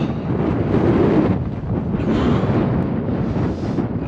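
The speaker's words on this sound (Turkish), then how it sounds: "Vallahi de billahi de bir rüzgar esiyor." Strong, icy-cold wind at Salda Lake buffets the microphone with a continuous, heavy roaring rumble, surging and easing slightly, with no voices.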